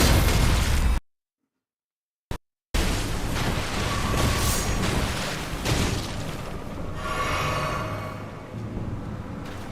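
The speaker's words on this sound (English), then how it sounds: "Trying to get them caught in the electrical explosion." An electrical explosion in the video game Elden Ring bursts out with a heavy boom after a short gap of silence, followed by a rumbling, crackling tail that slowly fades.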